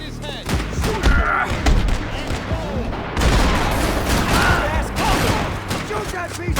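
Gunfire from the action game Max Payne 3 crackles as a loud, continuous fusillade with heavy thumps and booms, close and chaotic, while voices shout underneath.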